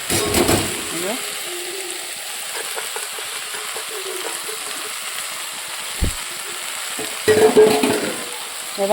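Fried dupuri fish stirred into vegetable chorchori in a pan: a soft steady sizzle with occasional spoon scrapes and a sharp clink near the end, under a quiet background hum.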